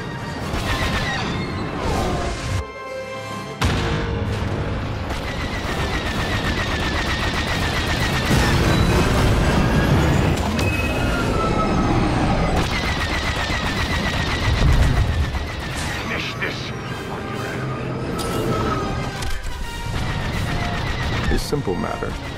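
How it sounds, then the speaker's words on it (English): Missile launches and blasts in a Star Wars Battlefront 2 starfighter space battle, a loud continuous barrage of rapid firing, explosions and engine roar, with radio-style voices speaking over the action. "Firing missiles."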